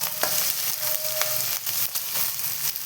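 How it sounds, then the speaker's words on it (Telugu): Chopped onion and green chillies fry in a pan with a steady close sizzle and crackle and a few light stirring scrapes, with no talk. "మంచిగా బ్రౌన్గా వేగనివ్వాలండి"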